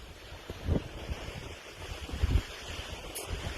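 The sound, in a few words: ocean waves on a beach in Spain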